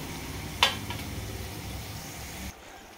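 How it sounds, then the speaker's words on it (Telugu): Kajjikayalu pastries frying in oil on medium heat, a steady crackling sizzle with one sharp clink early on, the bubbling dropping quieter near the end. "మరీ హై పెట్టకుండా కొద్దిగా మీడియం పెట్టుకొని వేపుకోండి."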